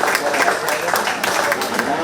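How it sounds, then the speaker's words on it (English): Crowd applause at a 4-H cattle show at the 2021 Shelby County Fair, uneven clapping with distinct sharp claps, fairly close, with a voice speaking over it. "Let's give this class a nice round of applause."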